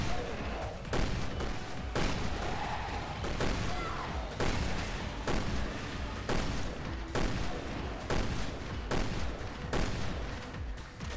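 Loud gunfire in the video game Resident Evil Revelations 2 comes as repeated heavy shots roughly every second, each with a booming punch, continuing steadily throughout.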